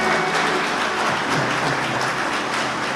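A church congregation applauding loudly and continuously, a dense wash of many hands clapping at once with shouts of praise blended in, steady throughout.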